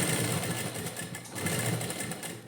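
A sewing machine runs continuously while stitching the lining of a blouse back panel, a fast, even mechanical whirr close up with no pauses.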